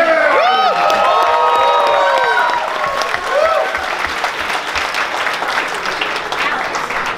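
Audience applause and cheering at a fursuit dance competition at a furry convention, dense clapping with whoops and shouts rising at first, then settling into steady crowd clapping and chatter.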